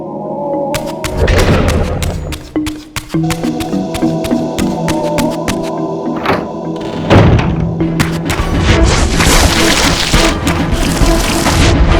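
Heavy stone door slamming shut in Legacy of Kain: Defiance Remastered, a deep thud followed by further booming impacts, set against a steady wash of rain and a low ambient drone.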